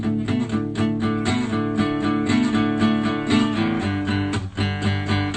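Driving distorted guitar chords with a shifting bass line underneath, continuous rhythmic strumming played close and loud, no talking.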